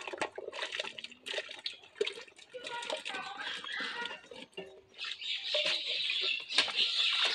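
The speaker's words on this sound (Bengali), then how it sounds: "সমস্ত সবজিগুলো জলে এখন ধুয়ে নেবো" Chopped village vegetables are washed by hand in a large vessel of water, giving close, irregular splashes, sloshing and patters that come in bursts and grow busier toward the end.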